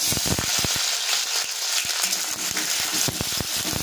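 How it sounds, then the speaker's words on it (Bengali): Chopped onions sizzling hard in hot oil tempered with cumin seeds, a dense, steady crackling hiss with sharp spitting pops throughout, close and loud with no voices. "এবার আমি পেঁয়াজ কুচিগুলো এতে ঢেলে দেবো।"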